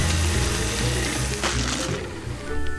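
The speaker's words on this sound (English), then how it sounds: "You're good with that chainsaw, actually." In Luigi's Mansion 3, a chainsaw buzzes loudly and roughly for a few seconds, its motor pitch wavering as it cuts, with no talking.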